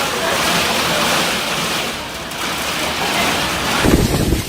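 Heavy rain from Hurricane Debby in Florida roars as a loud, continuous wash, with a brief louder splash or rumble near the end and a voice faintly present.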